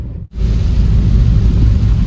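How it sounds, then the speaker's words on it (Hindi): Heavy rain roars as a dense, steady wash of noise close by on the Old Goa highway, starting abruptly after a brief quiet moment. "यहाँ पे घमासान बारिश हो रही है।"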